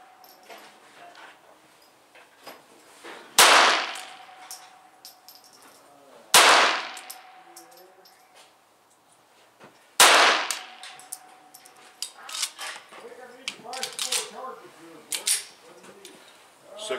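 Three sharp shots from a Ruger Mk-2 pistol at about 3.4, 6.4 and 10 seconds, each a loud crack with a decaying tail. Faint birdsong and other outdoor noise fill the gaps.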